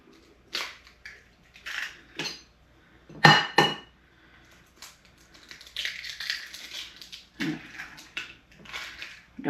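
Two eggs cracked against a bowl and then mixed, a few sharp knocks and crunches of shell followed by quicker clinking and swishing strokes at close range.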